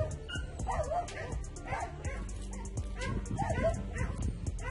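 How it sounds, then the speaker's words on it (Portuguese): Several frightened, agitated dogs bark and yip repeatedly during an approaching downburst storm, mixed with whimpers and whines, moderately close, with a steady background rumble and occasional faint talk. "Os cachorros estão agitados."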